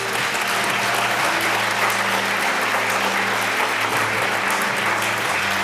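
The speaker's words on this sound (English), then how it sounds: "Big applause." Sustained, loud audience applause fills an award ceremony hall at the EGU 2018 geosciences conference, a steady dense wash of clapping from start to end with no pauses.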